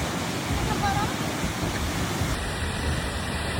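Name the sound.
Seljalandsfoss waterfall in Iceland, heard from behind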